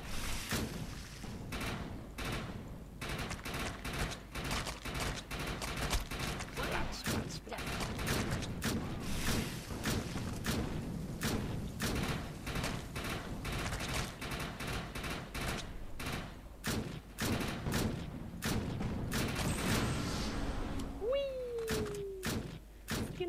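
Rapid bursts of assault rifle fire in the ChaosNova video game, loud and continuous throughout, with dense sharp reports, dull thuds and a brief rising whine near the end.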